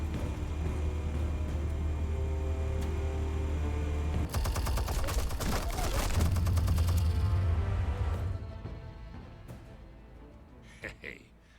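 Sustained automatic gunfire in the Batman: The Telltale Series video game, dense rapid bursts building to a loud climax mid-clip, layered over a low rumbling score, then fading out with a few faint sharp clicks.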